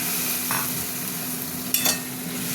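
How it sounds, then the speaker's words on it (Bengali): A steady, close frying hiss from a pan of taro cooking with mustard powder water, with two brief scraping stir strokes breaking through; no voices. "হতে থাক, একটু ভাজা ভাজা হলে সর্ষে গুঁড়ো দেবো।"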